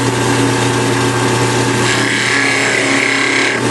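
A skew chisel scrapes across spinning wood on a lathe while shaping a honey dipper, a loud steady rasping hum with the motor's drone underneath, close and unbroken.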